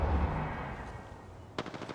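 Video game gunfire in a shooter played on PS5, dense continuous automatic fire filling the clip, with a sharp burst of shots near the end; no talk heard.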